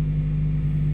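A Toyota Vios engine idles with unstable RPM, a steady low hum that rises and falls slightly, heard close and alone.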